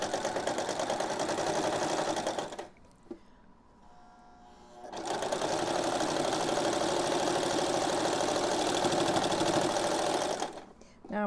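A sewing machine whirs steadily, stops briefly, then runs again with a loud, rapid mechanical chatter as it stitches over the thick seam of a pillowcase band.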